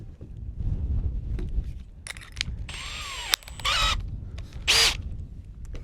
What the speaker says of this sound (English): let's make one more. And this time we will use larger drill, 8mm drill.